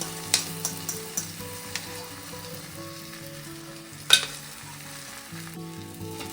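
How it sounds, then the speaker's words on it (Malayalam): Beaten egg sizzles steadily in a hot pan while being stirred for egg rice, with a series of spatula taps and scrapes early on and a sharp clank midway. "നന്നായിട്ടൊന്ന് മിക്സ് ചെയ്തിട്ട് ചിക്കി പൊരിച്ചെടുക്കുക"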